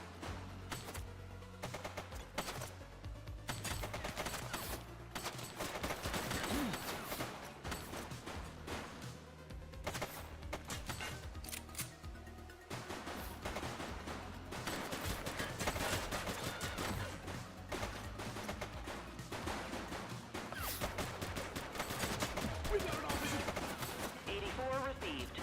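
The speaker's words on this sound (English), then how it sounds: "He's shooting!" Sustained gunfire rattles through a police action game, with rapid bursts of automatic fire and single shots crackling nearly nonstop at close range, while voices speak briefly among the shots.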